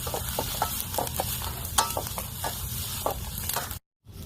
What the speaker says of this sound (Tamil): உப்பத்து போட்டு நல்லா கிளறிடுங்க.